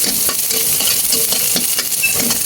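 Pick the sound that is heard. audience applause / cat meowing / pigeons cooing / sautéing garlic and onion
sautéing garlic and onion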